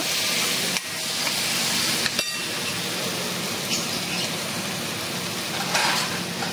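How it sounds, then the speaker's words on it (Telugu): Tomatoes stirred into an eggplant curry frying in a pan, giving a steady close sizzle and hiss with a couple of sharp knocks from the spoon, no talk. "టమాటాలు వేసుకొని దీన్ని చక్కగా కలుపుకున్న తర్వాత"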